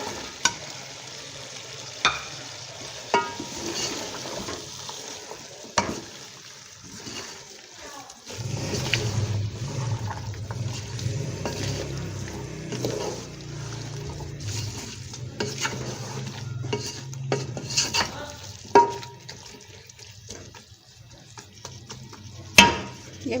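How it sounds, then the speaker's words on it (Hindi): Carrots, peas, potatoes and chicken are stirred in a pan for a mixed vegetable dish. Scattered scrapes and clinks of a utensil ring out over a soft sizzle that swells midway, with occasional quiet voice sounds. "ये मैंने बिल्कुल मिक्स कर दी है सब्ज़ी"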